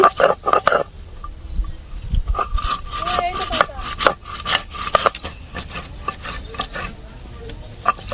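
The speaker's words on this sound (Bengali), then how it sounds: "রান্না করে এই আদা বেটে নিচ্ছি" Ginger is ground into paste by hand with repeated rough rubbing strokes, loud and close, in an uneven rhythm. A voice is heard in the middle of the grinding.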